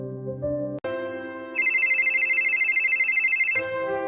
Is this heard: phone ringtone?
yes